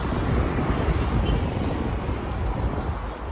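Strong wind in Kuwait buffets the microphone continuously, a loud low rumbling roar with no pauses.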